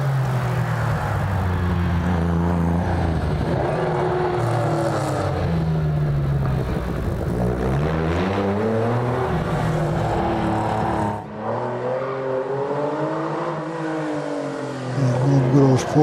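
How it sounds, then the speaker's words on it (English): A Ford Escort race car pulling away from the start line of a hillclimb, its engine note rising and falling through gear changes for several seconds, with faint talk over it. "Danny Moore in the Ford Escort just left the start line."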